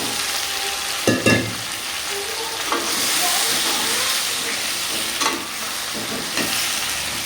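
Drumstick pods, brinjal and other vegetables sautéing in a pan: a steady loud sizzle and hiss, broken by a few clattering knocks from stirring.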